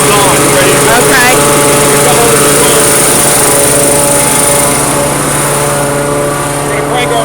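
A Contractors Enterprise pressure washer engine runs at about half throttle, a loud, steady, close droning hum with a high whine that holds throughout and eases slightly toward the end.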